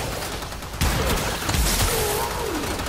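Rapid weapon fire in the Warframe video game, with Ember Prime in play: a dense burst of shots and booms that starts abruptly and keeps up a loud, continuous barrage with mechanical clatter.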